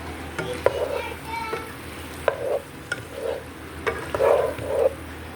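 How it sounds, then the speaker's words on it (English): Meat and onions cook in a pot under a low, steady sizzle, broken by repeated short scraping strokes of stirring at an uneven rhythm, close and moderately loud. "as the meat and the onions and everything is cooking"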